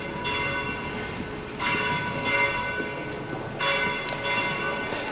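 Church bells ringing out at 7 pm in the town of Vilches, with steady metallic tolling and sustained overtones, several strikes swelling louder at intervals over a constant outdoor background hum, no talking.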